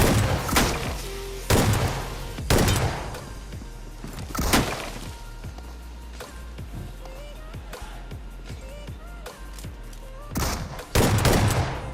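Shotgun blasts ring out in a shooter video game, several loud separate booms spaced a second or two apart between quieter gameplay sounds and footsteps.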